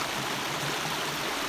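A high, swollen stream or river rushing past, a dense steady roar of flowing water heard close and unbroken.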